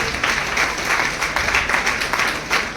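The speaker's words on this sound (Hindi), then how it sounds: "इन सबके लिए जोरदार तालियां हो जाए।" An audience applauds students at a Nagpur women's wing event of the South East Central Railway Mazdoor Congress, with dense, steady clapping from many hands close by throughout.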